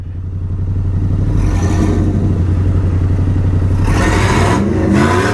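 A modified engine idles loudly at close range in a steady rumble. Near the end it is revved twice in quick rising and falling bursts, with no talking over it.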